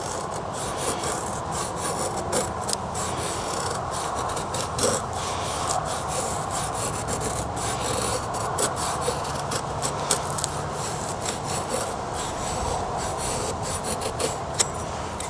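An Ontario machete with a factory edge shaves feather-stick curls from wood in steady, rasping scraping strokes. The strokes repeat close up and continuously, with no talking.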